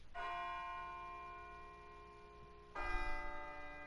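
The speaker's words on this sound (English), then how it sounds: "It sounds like a bell, but where's it coming from?" Two resonant bell strikes in the video game Persona 3 Portable, each with a long ringing, sustained tone; the second strike lands near the end and is slightly louder, with no talk over it.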